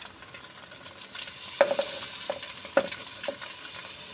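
Peas are stirred into rice cooking in a pan with carrots, a steady sizzle under a few sharp scrapes and clinks of the utensil against the pan, close and without voices.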